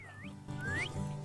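Two rising, sliding whistle calls from a whistling loon in the game The Last Tinker sound over a low steady hum of background music.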